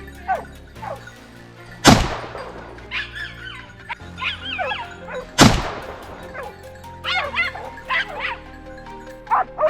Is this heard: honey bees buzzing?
no